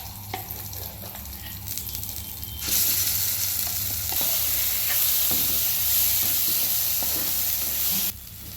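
Dried red chillies, garlic and curry leaves dropped into hot oil set off a loud, bright sizzle that holds steadily for several seconds before cutting back to a quieter simmering hiss.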